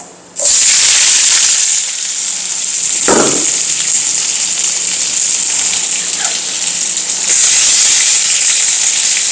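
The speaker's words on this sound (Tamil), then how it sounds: "இப்போ வெட்டி வச்சுருக்கிற வெங்காயம் பச்சை மிளகா நம்ம அதில் போட்டுடலாம்" Chopped onions and green chillies drop into hot oil for a Chettinad meat curry, setting off a sudden, loud, steady sizzle that keeps crackling close up with no speech.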